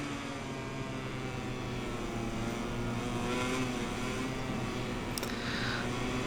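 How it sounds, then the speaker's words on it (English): A KTM motorcycle engine in the racing game MotoGP 21 hums and whines at fairly low volume, its steady pitch rising slightly at moments, with no voices. "Here's a KTM, I can hear it singing. It's got a very distinct engine sound, hasn't it?"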